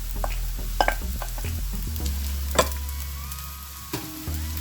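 Rice being stirred into a hot pan for egg fried rice, with crackling sizzle, scraping spatula strokes and occasional clinks against the pan over a low hum.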